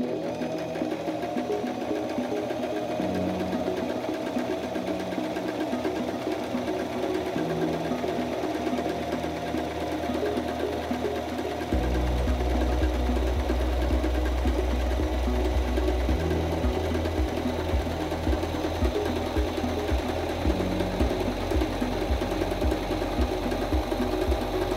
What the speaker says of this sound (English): step on the foot control to begin sewing